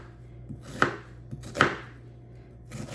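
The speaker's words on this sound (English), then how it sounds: "I'm just gonna dice the onion" Knife dicing an onion on a cutting board, a few sharp crisp chops spaced out at a relaxed pace, close and fairly quiet against a faint background hum.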